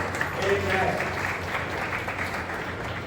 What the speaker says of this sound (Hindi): आइए जोरदार तालियां बजा रहे हैं